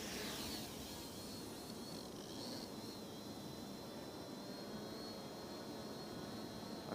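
MJX Bugs B2W quadcopter motors spin up and lift off, a faint, steady high-pitched whine over broad airy noise, heard alone without talk.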